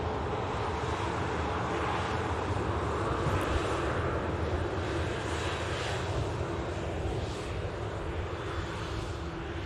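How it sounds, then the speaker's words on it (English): An Amelia International Airbus A319 jet at Manchester Airport, a steady loud broadband engine roar that holds constant throughout, heard from a distance with some wind noise. "that's an Amelia International A319"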